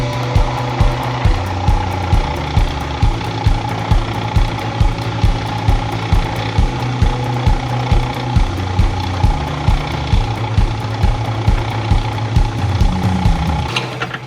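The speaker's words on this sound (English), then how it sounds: "I'm going to chuck this in the lathe, face off the 2 flanges" Metal lathe facing off two flanges on an engine main bearing, a steady close machine drone with a regular rapid chattering pulse throughout, ending abruptly as it stops.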